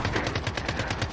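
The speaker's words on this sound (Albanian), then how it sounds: "krisma shumë, krisma të ata jenë afru" Wartime gunfire, a rapid rhythmic burst of many shots in a steady automatic pattern, moderately distant and fairly quiet, with no talk.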